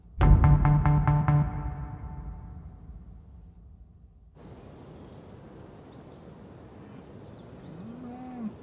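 A single loud, close cow moo rings out at the start, then fades into a quiet, low rumbling background with a faint, soft lowing call near the end.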